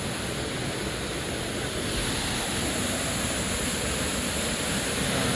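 Water rushes at Rawang Kanching waterfall in a loud, continuous, close roar of broadband noise that stays steady throughout.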